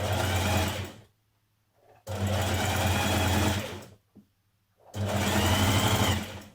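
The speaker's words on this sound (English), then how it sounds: "Just catching it on and off the edge with a very small zigzag stitch." Small zigzag stitches from a sewing machine hem a dress sleeve in three loud, close bursts of steady whirring, with short silent pauses between runs.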